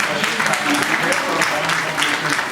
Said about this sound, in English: Let's have a loud clap